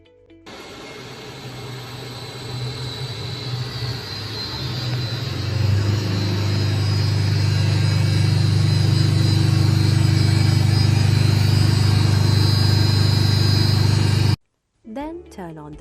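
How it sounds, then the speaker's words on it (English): An induction motor on a variable speed drive spins up, a steady hum and whine rising in strength over several seconds, then holding at a loud, even drone before cutting off abruptly near the end. "When you turn on the variable speed drive, you will see the induction motor starting."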